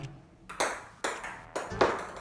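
A tiny table tennis ball pings crisply on a mini table in a quick rally, four or five bright, evenly spaced bounces close up with no talk.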